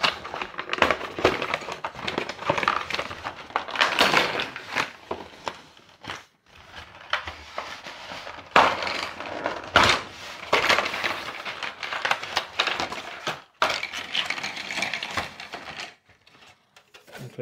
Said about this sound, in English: So they're glued in, so I just need to peel those off.